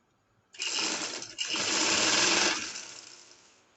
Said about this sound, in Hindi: इसे बोलते हैं घूम सिलाई के साथ लैस लगाना